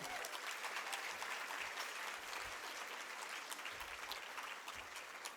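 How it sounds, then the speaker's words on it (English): Audience applause for student musicians at a Habitat for Humanity Women Build breakfast, with many hands clapping steadily and fairly quietly, slightly uneven with a few sharper claps standing out. "Can we give them one more round of applause?"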